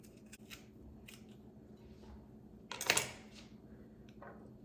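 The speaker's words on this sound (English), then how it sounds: "I'm just going to cut it in half. And then repeat the process with this habanero." A knife cuts through a habanero pepper on a cutting board, with a few light taps and then one louder, sharper chop near the end of a quiet kitchen moment.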